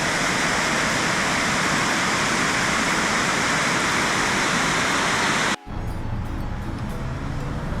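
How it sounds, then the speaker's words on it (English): Fast-rushing water in Rockport, Maine, roars loud and close as an unbroken wash of noise. It cuts off abruptly, then continues more quietly. "can you hear how fast that water is rushing?"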